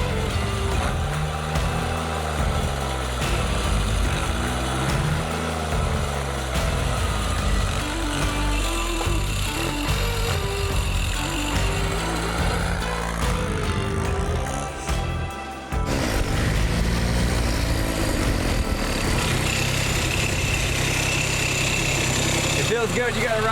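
A turbo diesel engine fitted to a John Deere motorcycle runs steadily with a low, loud rumble throughout, and people talk over it.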